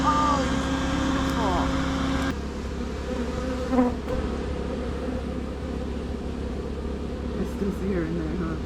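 Honey bees from a wild hive buzz steadily throughout, a dense droning swarm close by, with people talking intermittently over the hum.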